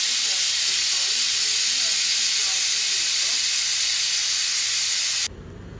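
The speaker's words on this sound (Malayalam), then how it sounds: "നമ്മുടെ കുക്കർ ഇതാ വിസിലടിക്കുന്നത്" Pressure cooker releasing steam with a sustained, loud, high hissing whistle that runs unbroken for about five seconds before stopping abruptly.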